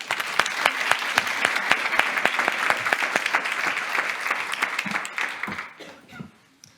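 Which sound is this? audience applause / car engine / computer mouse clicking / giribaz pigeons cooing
audience applause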